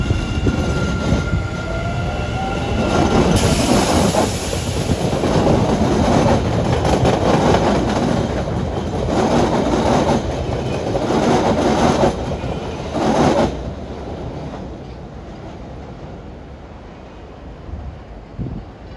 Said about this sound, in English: this Oak Grove train departs